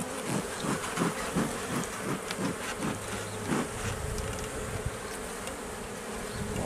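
Honeybees of a famously gentle strain hum steadily around an open hive, a dense continuous buzz with individual bees passing close by in brief louder swells.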